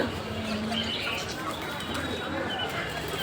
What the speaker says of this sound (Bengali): পাখিরহাট